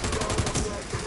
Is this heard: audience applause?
no